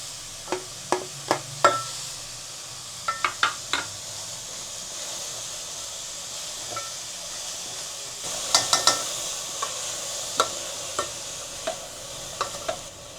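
Vegetables with drumstick leaves cooking in a pan for soup, a low background simmer broken by scattered sharp clinks and scraping stirs in bursts, close by, with no voices.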